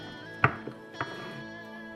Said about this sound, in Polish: moją czekoladę drobno siekam